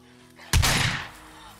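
A single loud, close shotgun blast firing bird shot in the video game SCUM cracks out after a quiet hum, then decays over about half a second into a low ambient tone.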